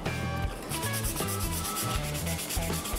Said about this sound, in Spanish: Ahí vamos a lijar todas nuestras piezas.